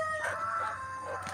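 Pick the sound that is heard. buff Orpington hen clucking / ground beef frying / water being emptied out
buff Orpington hen clucking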